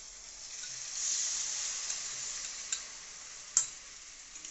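Poppy seed and cashew paste added to a hot frying pan gives a soft, steady sizzle, faint and close, broken by a few light ticks and one sharper clack of a utensil.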